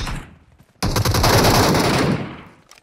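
Automatic gunfire in the video game PUBG Metro Royale: a brief shot, then a loud sustained rapid burst lasting over a second that tails off into quieter echoes.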